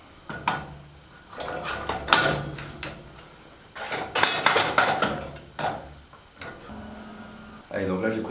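Metallic clanks, knocks and sliding rattles as the bench of a Tytax home gym is unlocked and set up for hack squats, irregular close impacts with pauses, while someone talks in French throughout.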